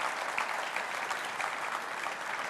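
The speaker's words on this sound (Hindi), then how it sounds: "तालियां बजाइए भाई, डॉक्टर आलोक शर्मा आइए।" Steady studio audience applause at a televised Hindi debate show, dense and continuous from start to finish with no talk over it.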